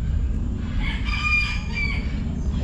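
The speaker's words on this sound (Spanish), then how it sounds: "Oye el gallo, papá." A Cochin rooster crows once, a clear, fairly close cock-a-doodle-doo rising and falling over a low outdoor hum at an animal rescue zoo.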